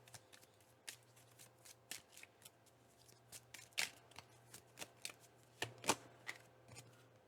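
A deck of tarot cards is shuffled by hand in a quiet room, giving a series of crisp, uneven riffles and taps with soft handling noise between them.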